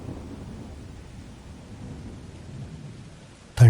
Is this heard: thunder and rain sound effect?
yes